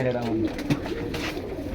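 Pigeons cooing at a market where pairs are sold, a soft low coo heard under someone speaking close by.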